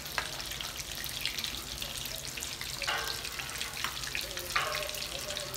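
Chilli cheese bites fry in hot oil, making a soft, steady bubbling sizzle with occasional brief crackles and clinks, fairly faint and distant.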